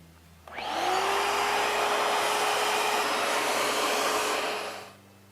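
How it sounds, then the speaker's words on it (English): A vacuum cleaner sucking up gelcoat sanding dust during a boat repair switches on with a rising whine, runs loud and steady for about four seconds, then winds down. "I'm going to vacuum up, and then I'm going to wipe it down with acetone again."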